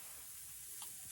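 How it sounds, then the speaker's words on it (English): Fajita juices and marinade dripping onto hot grill coals and cooking off, a faint steady hiss with tiny crackles, quiet and close, alone without talking. "the juices and the marinade will fall into the coals, and they'll cook that flavor back up"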